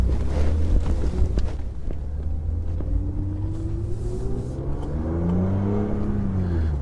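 A BMW E36 M3 at operating temperature revs up, its engine note climbing and falling in smooth sweeping tones, heard close and alone with some wind buffeting.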